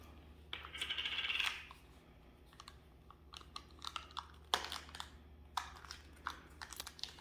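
New Play-Doh containers opened at a table: a scraping, rustling twist of a lid early on, followed by scattered sharp clicks and pops of plastic lids and tubs, with no talking.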